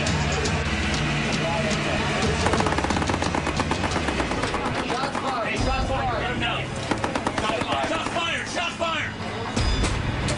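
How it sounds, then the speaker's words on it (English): Pirates fire guns at a ship at sea: loud, rapid bursts of gunfire roll over a dense background, with a voice talking through much of it. "The pirates fire directly at the Halliburton, but no one on board is hit"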